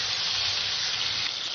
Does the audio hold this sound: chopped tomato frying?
yes